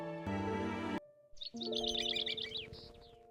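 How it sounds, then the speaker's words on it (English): Bird chirps from the video game Love and Deepspace: a quick cluster of bright tweets follows a chiming tone, sitting over soft sustained game music with no speech. "I hear birds chirping."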